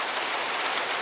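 Heavy rain drums steadily on a roof, a dense, loud, continuous hiss of many drops striking the surface without pause or voices.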